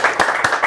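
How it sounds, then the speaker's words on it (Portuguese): Talk show studio audience applauding guest Jorge Wagner, a short burst of a few close claps in an uneven rhythm with no voices over them. "temos que bater palmas e palmas para Jorge Wagner"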